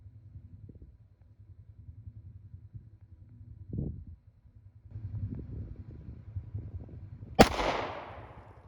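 A single sharp gunshot from a firearm at shooting practice rings out near the end, loud and close with a decaying tail, after low rumbling and handling noise.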